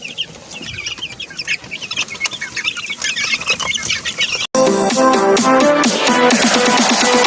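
Chicks cheep and cluck in a steady chorus, close and loud, before a sudden cut to dense, loud music.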